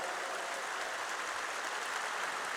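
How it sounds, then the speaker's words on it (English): Steady, dense audience applause fills the hall at a Counter-Strike esports showmatch during the PGL Major Kraków 2017, a continuous wash of clapping without breaks or talk. "some round of applause"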